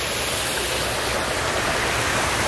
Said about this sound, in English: listen to the sound of this beautiful waterfall